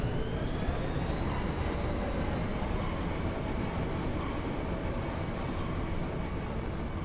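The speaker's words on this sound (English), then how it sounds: "This train, bound for Delling City, will be departing shortly." A steady, dense rumble of a departing train in the game Final Fantasy VIII, continuous and fairly loud with a faint rising whine on top, heard alone without talk.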